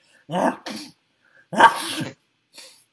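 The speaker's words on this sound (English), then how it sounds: "They were almost there when the sneezes struck." A voice acts out sneezes: a breathy burst, then a sharper, louder one, followed by a faint trailing puff.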